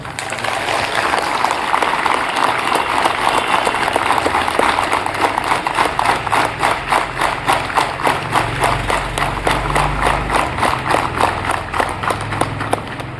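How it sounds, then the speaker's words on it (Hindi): Audience applauding together at the closing of a police training centre yoga class, thanking the swami; steady rhythmic clapping carries on for the whole stretch at a moderate distance, with a low murmur underneath. "एक बार जोरदार तालियों से स्वामी जी का।"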